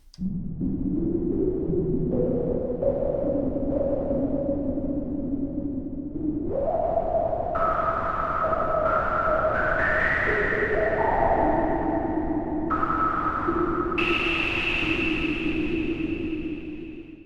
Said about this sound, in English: get a pitch out of the filter by running just noise into it